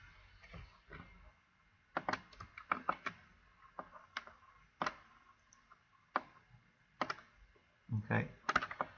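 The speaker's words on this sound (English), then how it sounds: "I'm just using the keys on my keyboard." Quiet, irregular key presses on a computer keyboard, arriving in short bursts of clicks with pauses between them and no talking over them.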